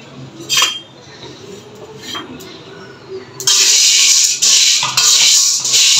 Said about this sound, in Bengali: এখন আমি এটা একটু ভেজে নিচ্ছি